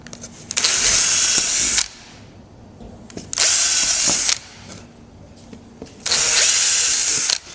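A power drill whirs into wood in three separate bursts, each a couple of seconds long, with quiet pauses and faint handling noise between them.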